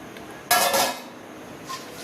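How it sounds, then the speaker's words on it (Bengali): Pabda fish tipped into a cooking pan of water for a mustard curry gives a single short clattering splash, fairly close, followed by quiet with a faint clink near the end. "মাছটা ঢেলে দিলাম।"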